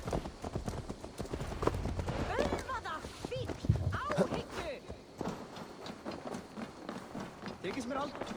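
Hooves clip-clop steadily as a horse is ridden in Assassin's Creed Valhalla, a rhythmic trotting patter under game music and overlapping character voices talking.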